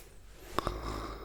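A single imitated snore, a voice mimicking a sleeper's snort in two quick rasping bursts, close and soft in a quiet ASMR setting.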